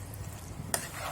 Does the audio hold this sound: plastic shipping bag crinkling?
no